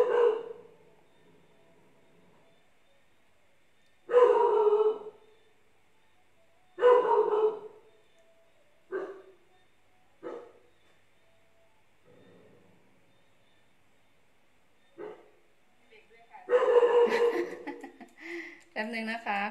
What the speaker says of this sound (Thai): มีเสียงเอฟเฟกต์ด้วยค่ะเสียงหมาเห่า